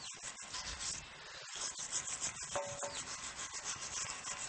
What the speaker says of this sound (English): We're going to start off by scraping the rust off of this rusty kingpin.